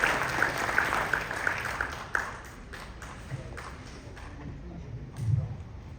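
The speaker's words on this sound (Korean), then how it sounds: "큰 박수 부탁드리겠습니다" Applause from an audience at a dental lecture, fairly faint and fading over six seconds, with scattered claps near the end and a few isolated taps.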